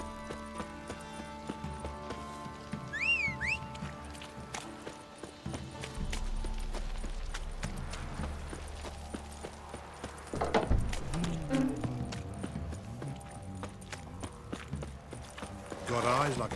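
Horse hooves clip-clop at a steady walking pace amid game music and ambient effects in The Witcher 3: Wild Hunt, with a brief voice and other noises mixed in.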